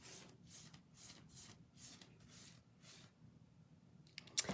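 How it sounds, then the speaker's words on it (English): A nail file rasps back and forth across dip-powder nails in about eight steady, soft strokes, faint and close, followed by a brief clatter at the end. "And then we'll start filing."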